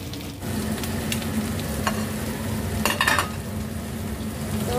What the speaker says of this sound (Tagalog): Baliktarin natin ang ating piniprito'ng pork chop para naman magpareho yung kanyang luto